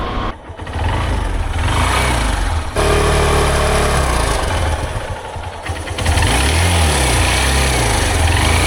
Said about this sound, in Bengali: আর বাইকের সাউন্ডটা এখন কেমন রয়েছে চলুন সেটা একটু দেখে নিই।